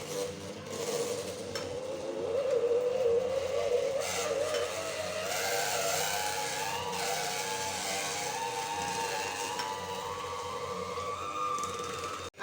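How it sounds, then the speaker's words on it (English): An electric mixer creams butter for a vanilla cake batter, giving a steady whirring motor drone that shifts slightly in pitch throughout, loud and continuous with no talk. "I've been beating this now for roughly 10 minutes. Let me bring down the mixer."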